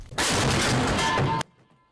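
A KS-19 anti-aircraft cannon fires once, a loud, heavy blast that rolls on for over a second before cutting off, followed by low rumbling quiet.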